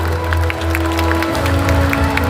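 Big welcoming applause from the crowd at a party's extraordinary national convention as guests are introduced, a dense, steady wash of clapping throughout, with a constant low hum beneath.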